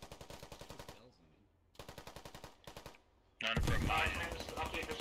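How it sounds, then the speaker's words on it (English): Automatic gunfire inside a building in the military shooter Squad fires in rapid, evenly spaced bursts with short pauses, ending in a louder, closer burst of shots and noise. "Firing all inside of Quantum's building"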